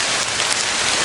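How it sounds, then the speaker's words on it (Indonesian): Heavy rain pours down in a dense, steady hiss that fills the whole moment, loud and close with no voices. "Hujan semakin deras."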